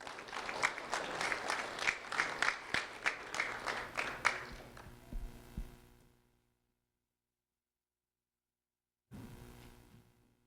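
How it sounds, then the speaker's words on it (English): Audience applause for a seventh-grade student honored by a sheriff's office, dense clapping for about six seconds that fades into silence, then a short burst of renewed clapping near the end. "a round of applause for Haley Hernandez, please"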